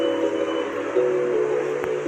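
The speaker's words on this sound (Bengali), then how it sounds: "আমরা যাচ্ছি এখন, মেট্রোয় উঠবো।" Steady rumble and hum of a metro train at a station, a continuous mid-level drone with a faint whistle-like tone and a brief click near the end, no voices.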